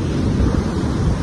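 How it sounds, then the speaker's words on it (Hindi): Strong ocean waves pound the windy seashore on the Gujarat coast near Somnath, making a loud, continuous surf roar mixed with gusting wind against the microphone. "बहुत ज्यादा तेज लहरें हैं, बहुत ज्यादा।"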